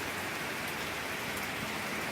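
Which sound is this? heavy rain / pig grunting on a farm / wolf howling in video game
heavy rain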